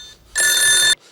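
A telephone rings with one loud, bright electronic trill lasting about half a second, close and clear with no voices over it.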